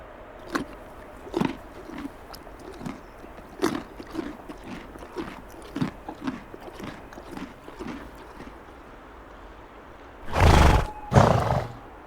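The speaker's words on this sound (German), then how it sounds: "Ah, du willst das Rüebli, das ich fürs Biken mitgenommen habe. Das darfst du gerne essen, Eseli." A donkey chews and crunches a carrot, giving a series of sharp, irregular bites close by, then two loud snorting bursts near the end, outdoors on a mountain bike outing.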